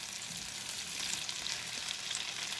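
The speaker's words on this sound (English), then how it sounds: "let's take you back over to the stove where our food is still cooking away" Food for egg bowls fries in a pan on the stove, giving a steady, bright hissing sizzle with faint crackles and no voices.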